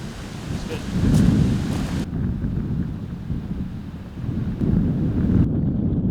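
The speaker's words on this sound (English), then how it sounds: "the wind is really whipping off of Guntersville Lake this afternoon" Strong gusts blow off Lake Guntersville at an outdoor disc golf tournament, buffeting the microphone with a loud, low roar that swells and eases throughout.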